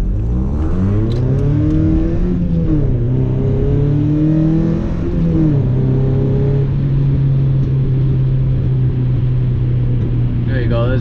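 A Mazda MX5 driven hard from inside the cabin, its engine revving up through rising pitch sweeps, dipping at a gear change, then holding a steady loud drone, continuous and close.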